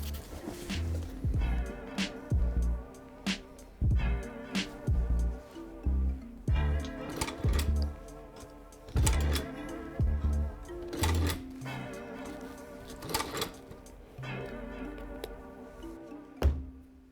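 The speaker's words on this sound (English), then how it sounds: "I sewed the wire onto the shoe using the patcher." A patcher sewing machine stitches wire onto a Nike Air Force 1 shoe in quiet, uneven bursts of rapid mechanical clatter, broken by short pauses and faint taps.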